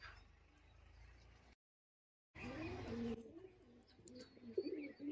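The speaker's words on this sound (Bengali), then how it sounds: "এই দেখুন মাদা পায়রাটা ফুল অ্যাক্টিভ গিরিবাজ পায়রা।" Giribaj pigeons coo close by in a loft, with soft, throaty warbling calls in the second half after a brief gap in the sound.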